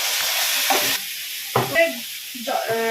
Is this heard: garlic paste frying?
yes